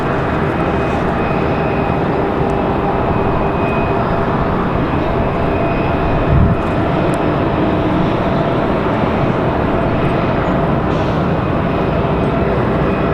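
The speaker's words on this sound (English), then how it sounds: "Air France coming in from Charles de Gaulle." An Air France Boeing 777 arriving from Charles de Gaulle at Raleigh-Durham International Airport gives off a loud, steady jet engine roar that fills the whole stretch without letup, with no talk.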